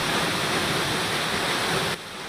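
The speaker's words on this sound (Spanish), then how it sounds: "Así es como se observa la cascada en medio del campo que la rodea." The Velo de Novia waterfall in Temalac, Guerrero, roars as a dense, steady rush of falling water in open countryside, loud and continuous, easing slightly near the end.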